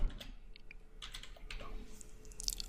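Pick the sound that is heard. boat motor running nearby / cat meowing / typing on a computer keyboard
typing on a computer keyboard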